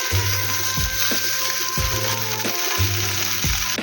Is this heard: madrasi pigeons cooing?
no